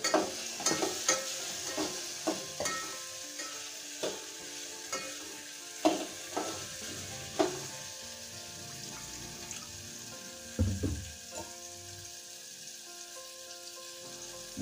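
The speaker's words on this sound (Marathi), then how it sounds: "टोमॅटो आहे ना मित्रांनो, चांगल्या प्रकारे अशा प्रकारे आपल्याला परतून घ्यायचं व्यवस्थित" Tomatoes sautéing in a pan give a faint, steady sizzle, with a spoon scraping and knocking the pan in a string of sharp clicks roughly every second or two.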